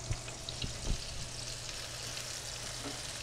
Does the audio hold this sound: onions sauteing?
yes